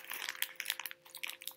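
Someone bites into and chews a Pejoy mint-flavoured cocoa biscuit stick with a soft mint cream filling, giving close, quiet, irregular crunches and crackles with brief pauses between bites.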